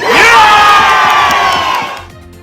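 Large crowd of protesters at a rally against proposed pandemic legislation, a loud, sustained roar of shouting and cheering voices that swells early, holds, then fades toward the end.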